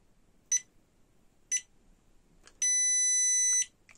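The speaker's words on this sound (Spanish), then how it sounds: "Ahí tenemos los pitidos de confirmación de que la BMSJK ha sido activada" A JK (Jikong) lithium battery management system gives confirmation beeps on activation after an 18650 cell is connected: two short separate high beeps, then a longer steady tonal beep, close and clear over quiet background.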